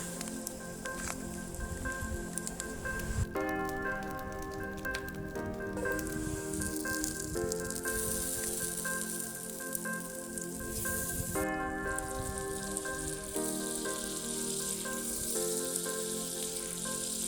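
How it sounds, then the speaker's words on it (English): Butter melts and sizzles in a hot pan over a charcoal fire outdoors in the mountains, where trout is being grilled; a soft, steady crackling hiss runs throughout alongside faint tonal background music. "We put our pan on the fire, and when hot, we add the butter."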